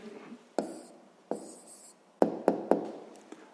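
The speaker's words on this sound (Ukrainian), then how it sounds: "зараз записуємо тоді відповідь" An answer is handwritten on paper during a sixth-grade maths exercise: soft scratchy pen strokes broken by several sharp taps of the pen against the page, close and without speech.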